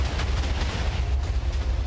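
A castle built in Minecraft, modelled on Laputa, is blown up: a dense, continuous rumble of crashing explosions, loud and close, with no voices.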